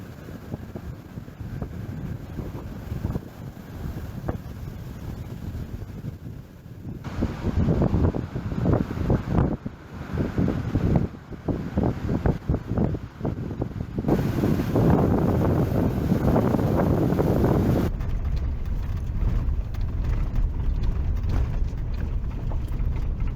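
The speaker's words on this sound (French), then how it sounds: "C'est vrai que c'est venteux, comme souvent les bords de mer." Strong seaside wind on the Moroccan coast roars steadily into the microphone, buffeting loudly and continuously with gusts that swell and ease, alone with no talking.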